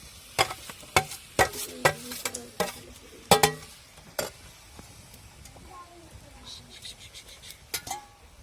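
Spring onion greens being stirred in a pan with masala, a string of sharp spoon scrapes and clinks against the pan over a soft frying sizzle, the strokes thinning out toward the end.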